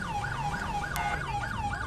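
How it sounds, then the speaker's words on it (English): A police siren from the GTA V mod LSPDFR wails in a steady, fast repeating yelp pattern, continuous and fairly loud over a low engine rumble. "I can change siren tones without having to hold down a button."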